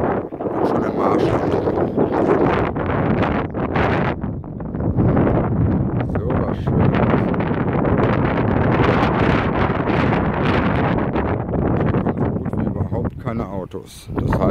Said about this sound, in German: Und windig ist es auch.